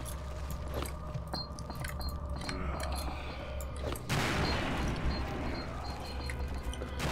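A grenade explodes in Return to Castle Wolfenstein amid scattered game gunfire, a sudden loud broadband blast about four seconds in that rumbles on and decays over the final seconds.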